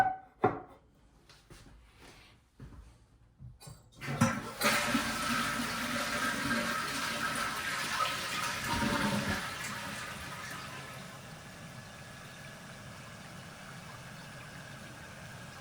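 A toilet fill valve refills the tank after a flush: a few clicks and gurgles, then a loud, steady hiss of rushing water that holds for a while, eases off, and settles into a quieter continuous flow.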